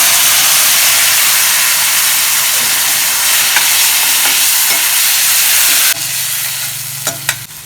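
Chicken curry with chili powder masala fries hard in a hot pan, a loud, dense and continuous sizzling hiss. After about six seconds it drops to a gentler bubbling fry with a few clicks from a utensil.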